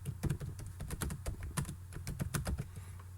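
Fast, uneven typing on a computer keyboard, crisp close keystrokes clattering steadily for a few seconds with no talk.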